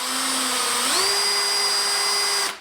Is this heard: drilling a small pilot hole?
yes